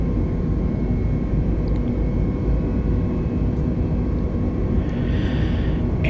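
In a flight simulator game, an airplane engine throttles up for takeoff as a loud, steady, broadband engine drone and rumble that stays constant throughout, with no speech.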